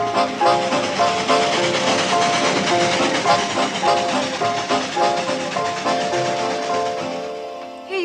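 A train running along the rails, a steady broad rumble with rhythmic clatter and hiss that holds at an even, fairly close level throughout and eases slightly at the very end.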